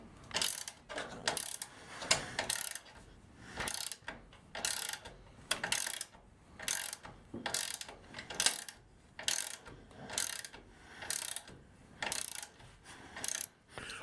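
A ratchet wrench tightens spring hanger bolts on a vehicle axle, giving close, steady bursts of rapid clicking that repeat in a regular rhythm, about two every second, with no voices.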